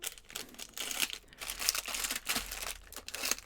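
Quiet crinkling and tearing of plastic packets being cut open with a knife, a steady run of small rustles and crunches with brief pauses, no talking.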